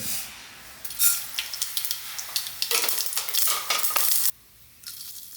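Mustard seeds tempering in hot coconut oil for idli chutney: bursts of sharp crackling pops over a hissing sizzle, close and lively, ending abruptly near the end.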